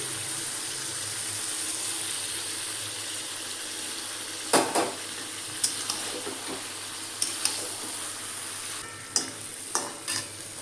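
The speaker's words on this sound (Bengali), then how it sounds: "মাংসটা ভাজা হয়ে গেছে, এবার এখানে আদা রসুন পেঁয়াজ টমেটোর বাটা দিয়ে দিচ্ছি" Meat frying in a pan with a paste of ginger, garlic, onion and tomato, a steady sizzle broken by several sharp scrapes and clinks of stirring, close and fairly loud, with no talking.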